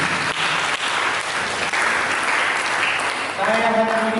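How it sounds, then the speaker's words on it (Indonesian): Steady applause from a church congregation at an Indonesian prophetic worship service, sustained and fairly loud throughout, with some voices and a faint tone rising near the end. "Berikan tepuk tangan."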